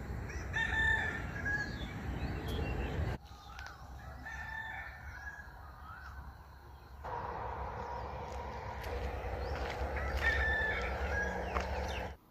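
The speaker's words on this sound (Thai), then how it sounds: "ยามเช้าก็บรรยากาศแบบชาวบ้านนะครับมีไก่ขันด้วยครับ" A rooster crowing in the morning at a village-style resort in Bueng Kan province, Thailand, with several fairly distant crows over a steady rural background hum.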